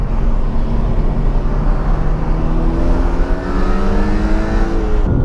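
A BMW E36 M3 accelerates on a mountain road, its loud engine droning steadily with pitch rising through the gear, heard from inside the car with no talking.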